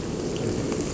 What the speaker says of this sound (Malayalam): അപ്പോൾ ഇഞ്ചിയും വെളുത്തുള്ളിയും കൂടി ആ എണ്ണയിൽ ഒന്ന് മൂത്ത് തന്നെ